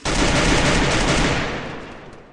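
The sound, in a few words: gunfire in the video game Free Fire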